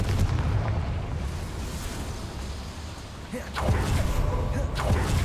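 Fiery Confringo spell explosion in the Hogwarts Legacy video game, a dense rumbling blast with a second loud burst partway through, booming over low roaring noise while someone speaks.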